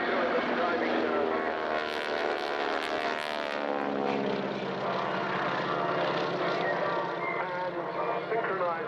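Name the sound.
display aircraft synchro dive at an airshow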